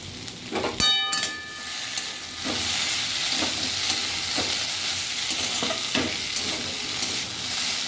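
Parboiled potatoes frying with asafoetida in a pan give a loud, steady hiss and sizzle, broken by periodic scrapes and clinks of a stirring utensil, with a sharp clatter near the start and no talking.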